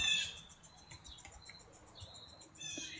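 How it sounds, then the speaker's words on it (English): Small birds chirp faintly in the distance, with scattered short, high tweets over quiet background hiss and a soft patter of other small sounds. "You guys like the birds?"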